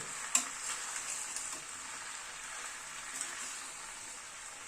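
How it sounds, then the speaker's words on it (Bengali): Chicken sautéing in a pan with onion for a coconut milk chicken curry, a steady close sizzle and crackle with a few sharp pops near the start, no voices. "সব দিয়ে আবার একটুখানি চিকেনটাকে কষিয়ে নেব"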